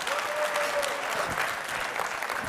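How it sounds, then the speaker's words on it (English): Audience applause at a space-station science research conference, a steady, moderate patter of many hands clapping throughout, with a brief tonal tone early on. "Okay, come on, applause."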